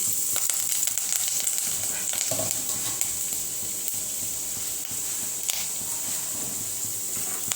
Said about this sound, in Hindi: अच्छे से इसको हमें फ्राई कर लेना है।